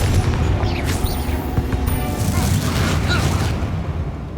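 Confringo blasting spell explosions in Hogwarts Legacy, a loud deep booming rumble with crackling bursts that carries on through the whole stretch without speech.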